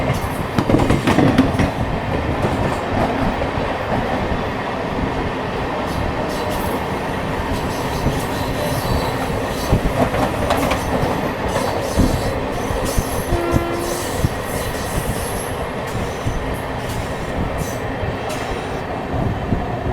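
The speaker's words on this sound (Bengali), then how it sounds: "এদিকে শহীদ এক্সপ্রেস, একদিকে বর্ধমান কট লোকাল।" Two trains passing at once near Kamarkundu station, the Howrah–Rampurhat Shahid Express and a Bardhaman local, a loud continuous rumble of wheels and carriages with rhythmic clatter and occasional metallic squeals, close by.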